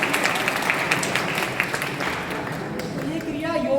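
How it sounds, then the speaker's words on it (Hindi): An audience claps steadily for a speaker at an Ayurveda and naturopathy talk, a dense patter of hands that fades toward the end while a voice speaks over it. "तो ताली बजा दीजिए मैम के लिए।"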